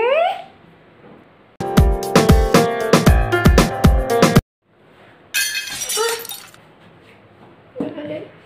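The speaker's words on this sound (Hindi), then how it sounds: "अरे ये क्या, तुमने कांच तोड़ दिया?" Glass shatters and clinks in sharp, ringing crashes, followed by quieter tinkling fragments and a voice speaking nearby.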